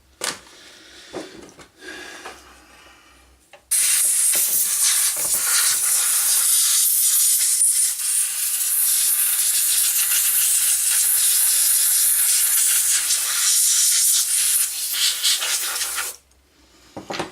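A loud, steady spray hiss from an aerosol can aimed at a hot old laptop's components runs for about twelve seconds after some faint handling noises, then cuts off abruptly.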